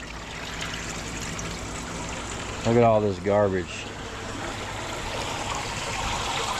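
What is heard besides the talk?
water flowing through a copper sluice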